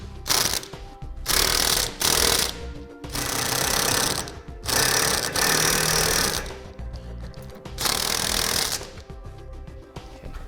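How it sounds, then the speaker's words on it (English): Impact wrench or power tool rattling in several loud bursts of about a second each, separated by short pauses, while bolts are tightened on a B and W heavy-duty trailer hitch receiver on a 2005 Chevrolet. "we'll go ahead and tighten down the bolts"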